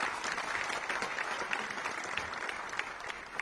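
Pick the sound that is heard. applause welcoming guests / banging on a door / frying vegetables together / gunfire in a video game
applause welcoming guests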